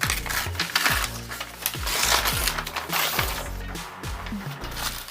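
A shipped package holding a framed Sega Game Gear is being opened close up, with repeated crinkles, knocks and rustles of cardboard and packing material handled at a steady pace.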